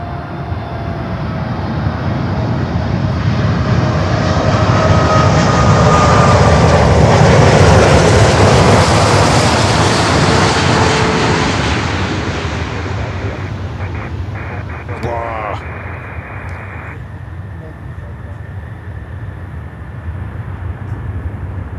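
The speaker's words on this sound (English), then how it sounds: "747-8 cargo lux coming in from Anchorage in Alaska." A Cargolux Boeing 747-8 freighter arriving from Anchorage, Alaska, lands at Miami airport: a loud, broad jet roar swells to a peak as it passes close, then fades into a lingering rumble, with a few voices talking underneath.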